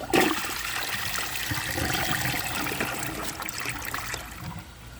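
A 2007 Crane Elite toilet flushes loudly and close, a rushing surge of water that runs steadily for about four seconds before tapering into a trickle.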